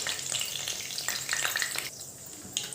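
Curry leaves and mustard seeds crackle and spit in hot oil during a tempering for sambar, a steady dense sizzle with sharp pops scattered throughout, close and fairly loud, with no voices.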